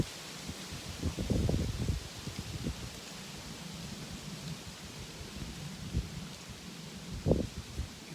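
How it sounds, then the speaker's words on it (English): Wind gusts through trees in a constant rushing hiss, with louder rustling swells that come and go. "Oh, it's windy."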